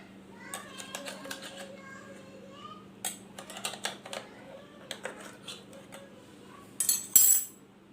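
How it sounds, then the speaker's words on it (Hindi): A knife runs around the edges of a caramel egg pudding in its mould, making a series of quick metallic scrapes and taps, with a sharper clatter of cutlery near the end. "छुरी से इसके किनारों से हम इसको अलहदा कर देते हैं।"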